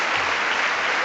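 Brief burst of State of the Union audience applause, thick continuous clapping from a large crowd heard alone at steady volume.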